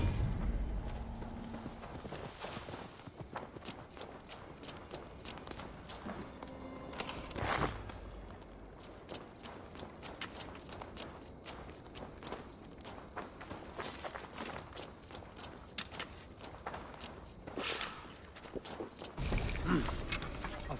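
Horse hooves clip-clop at a steady walking pace in a Viking-age video game, continuous over game ambience with brief louder bursts, no talk.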